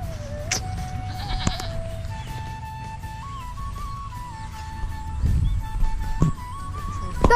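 A person mimics a goat with long, wavering, nasal bleats that drift up and down in pitch over several seconds, against a faint outdoor background with a few short knocks.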